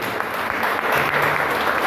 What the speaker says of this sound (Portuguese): quem crê na vitória aplaude ao Senhor.